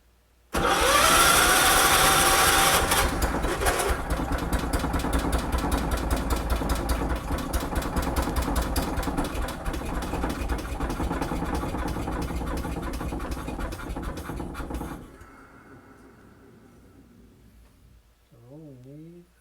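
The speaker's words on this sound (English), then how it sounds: "Alright, we'll see if it's going to start." A Kohler K241 engine is cranked and starts, loud and close, with a rhythmic pulsing run that gradually eases before cutting off abruptly, followed by a brief faint sound near the end.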